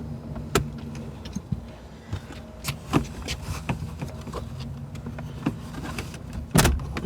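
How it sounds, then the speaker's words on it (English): Sharp plastic clicks and pops of a dashboard trim clip being pried loose on a 2017 Subaru Forester, scattered irregularly with a louder snap near the end, close up and without talk. "Pull that clip out."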